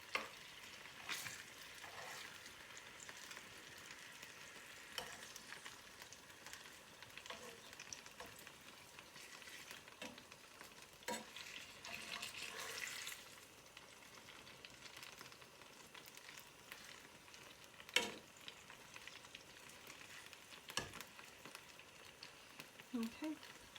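Steady frying sizzle of chicken in a pan, fairly quiet and continuous, with occasional clinks and scrapes of utensils.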